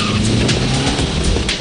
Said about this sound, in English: here I am on the start line, engine revving